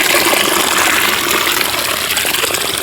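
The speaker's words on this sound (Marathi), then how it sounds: "पाठामध्ये झुळझुळ पाणी पण सोडलं होतं." Water runs through a channel on a farm, a steady, close, unbroken rush and gush with no voices.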